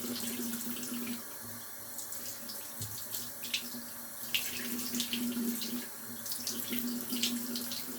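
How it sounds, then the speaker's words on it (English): A faucet runs steadily into a sink, with splashing and trickling water close by, continuing throughout at moderate volume. "how well the camera can kind of pick up the sound of the sink like that"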